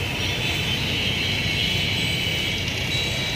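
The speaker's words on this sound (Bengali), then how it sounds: "আমি ড্রোনটা আরেকবার একটু উড়াই" A steady, even engine whine with a constant high-pitched buzz from a small camera drone, a DJI Mini 2 clone, hovering nearby, unchanging throughout.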